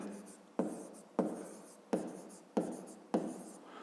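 Pen writing on paper while a fifth-grade math exercise is worked out, a series of five close scratching strokes with sharp starts that fade, repeating about every 0.6 seconds; no voice over it.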